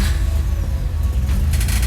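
A Mazda RX8 rotary engine idling just after a flooded start, a loud, steady low rumble close by with a slightly rough, uneven pulse and a brief higher rush near the end.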